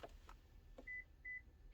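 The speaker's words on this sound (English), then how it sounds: "We get our 2 beeps." A 2013 Lexus proximity smart key being programmed gives two short, clear confirmation beeps about a third of a second apart, faint and alone against a quiet room hum.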